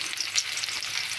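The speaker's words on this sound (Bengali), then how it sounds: "আগে পটলগুলো তেলে ভেজে নেব" Pieces of pointed gourd (potol) fry in hot oil, making a close, bright, crackling sizzle that stays steady through a brief moment.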